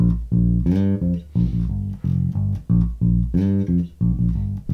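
Electric bass plays a full bar of a riff, a loud, close, punchy run of plucked notes with short gaps between phrases and no voice over it.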